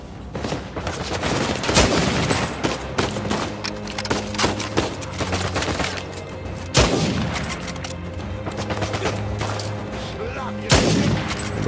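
Gunfire in Uncharted 4: A Thief's End cracks repeatedly, with sharp single shots and rapid bursts over a steady background rumble, loud and close.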